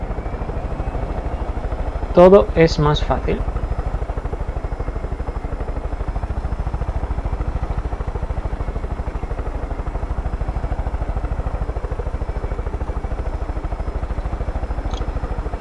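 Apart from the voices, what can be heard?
helicopter flying in the video game Far Cry 5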